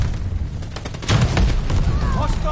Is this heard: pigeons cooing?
no